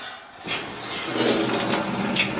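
A GE top-load washer in its diagnostic spin test sprays water into the drum, a steady rushing hiss that starts after a brief quiet moment and continues close and fairly loud.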